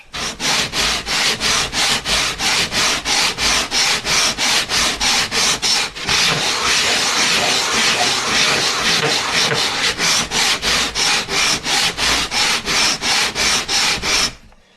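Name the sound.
sanding the wooden sides of an instrument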